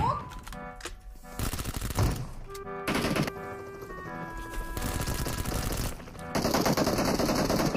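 Rapid automatic gunfire bursts in the mobile battle-royale game PUBG Mobile, loud and dense for most of the stretch, with brief lulls between volleys.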